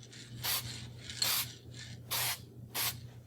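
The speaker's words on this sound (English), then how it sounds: "I want to make sure I hit the edges of where I sprayed." Short hissing bursts of an aerosol blender sprayed over a painted wood-finish repair on a gouge, four or five close spurts in an uneven rhythm over a faint steady hum.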